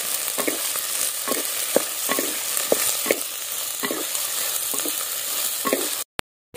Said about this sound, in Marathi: या भाजी आपल्याला आता 3-4 मिनिटं असं चांगलं परतून घ्यायचं